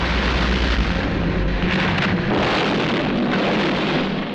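A loud, rumbling explosion fills the scene, a sustained heavy roar with a deep low-end boom that keeps rolling without pause.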